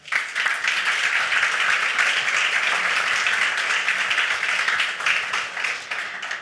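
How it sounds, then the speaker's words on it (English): An audience at a panel discussion on the circular economy claps in a steady, sustained round of applause lasting several seconds, close and full, with no voices. "let's give them all a big round of applause"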